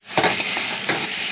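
Taro and potatoes frying in a pan, a loud, steady sizzle with a few stirring scrapes near the start.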